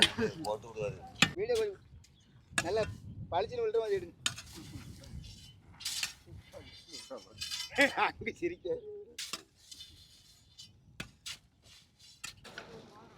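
Irregular sharp knocks strike a hard, compacted salt heap at the Thoothukudi salt pans, several blows spread out, with people talking nearby throughout.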